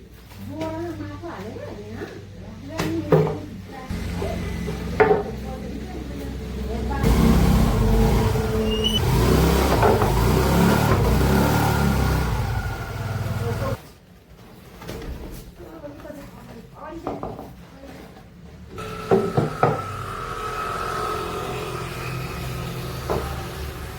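A scooter engine starts and runs on an early morning ride, its steady motor drone rising for several seconds in the middle, with people talking before and after.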